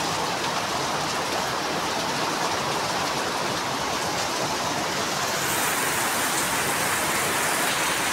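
Heavy monsoon rain pours steadily in Konkan in a dense, loud, unbroken hiss, drumming on surfaces nearby, with no voices.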